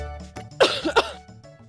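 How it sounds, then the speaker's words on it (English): A person coughs several times in quick succession, close and loud, with a throat-clearing quality, then quiet. "I'm sorry if I'm coughing"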